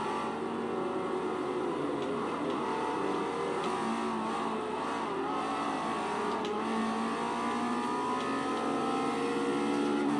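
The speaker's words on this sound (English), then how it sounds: "Now this is not the first time I ever raced against a Nissan GTR with my 360 Modena." A Ferrari 360 Modena races in Forza 4, its engine holding a steady high roar with little variation, close and continuous, with no talk.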